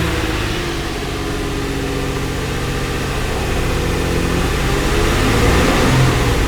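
A 2013 Nissan Frontier engine with a throttle fault runs steadily at a loud idle, its low rumble holding constant with a slight rise in revs toward the end, no talking.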